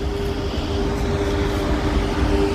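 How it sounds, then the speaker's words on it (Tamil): A loud, steady rumble of a train rolling past nearby, continuous and droning with a faint tonal hum. "ட்ரெயின் போனதை பார்த்தீங்களா?"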